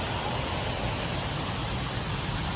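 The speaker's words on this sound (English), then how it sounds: "That's a pretty cool waterfall" Raymondskill Falls in the Delaware Water Gap pours as a steady, loud, broadband rush of falling water, unbroken and close, with no voices.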